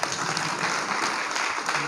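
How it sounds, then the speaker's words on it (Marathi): An audience at a kirtan religious discourse claps together in a dense, steady round of applause that fills the whole moment, with no clear speech over it. "टाळी वाजवा त्यांच्याकरता एकदा."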